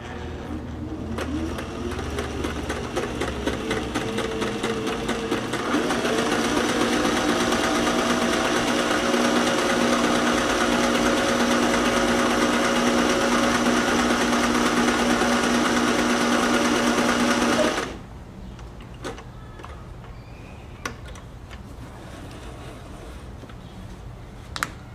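A Singer 503A sewing machine stitches steadily and loudly for a sustained run, its whirring motor rising in speed before stopping abruptly, followed by quieter handling noises.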